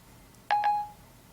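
An iPhone 4S places a call through Siri, giving two short, clear electronic dialing beeps in quick succession, with the second tone trailing off; otherwise quiet, no voices.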